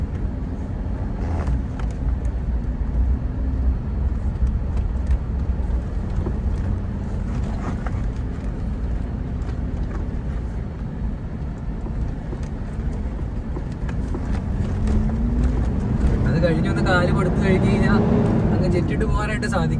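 A Toyota Fortuner 4x4 running in stock form, rocking over a bumpy, potholed road, gives a steady low rumble with wind buffeting. A voice talks over it throughout.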